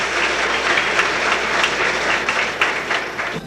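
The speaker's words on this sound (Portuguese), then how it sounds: "Os educadores aplaudem de pé." A hall full of educators at an agrarian reform gathering gives a standing ovation, loud dense applause filling the space continuously without voices.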